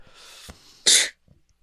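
A single sharp, explosive cough bursts out loudly up close, preceded by a faint breath and followed by quiet.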